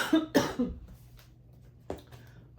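Allergy-driven coughing from a person at home doing hand stitching: two sharp, close coughs in quick succession and a weaker third, then quiet with a small throat sound near the end.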